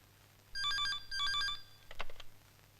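Telephone ringing after a call is connected: two loud bursts of a trilling electronic ring, followed by a short rustle and no talking.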